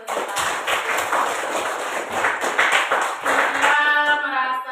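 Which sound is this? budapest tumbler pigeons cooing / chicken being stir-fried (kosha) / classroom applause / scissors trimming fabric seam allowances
classroom applause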